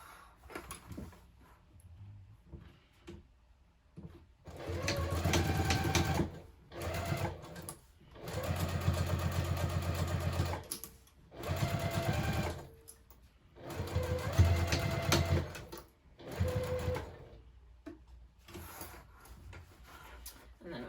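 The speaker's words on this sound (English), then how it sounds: "I'm going to sew it from this and just kind of tug this out of the way here." A sewing machine stitches a zippered tote bag in several bursts of steady mechanical whirring and rattling, separated by short pauses with small handling clicks.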